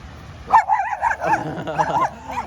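A dog out on a walk gives a burst of high, wavering yips and whiny barks toward another dog, loud and close, with no talking.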